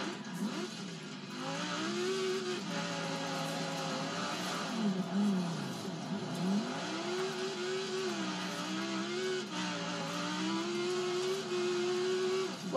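A Lamborghini's engine drones steadily throughout, its pitch climbing and dipping in repeated surges as the car accelerates and eases off, loud and close with no talking.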